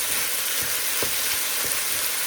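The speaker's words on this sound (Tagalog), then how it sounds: "Yan, kakalagay ko lang ng beef." Beef strips hit a hot pan with sauteed tomatoes for ginisang pechay, making a loud, steady, close sizzle with a few soft stirring bumps and no voices.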